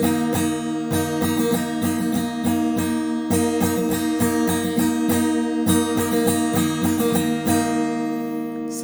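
Acoustic guitar in an alternate tuning strummed in a quick, steady pattern, bright chords ringing continuously up close with no voice, ending on a sustained chord.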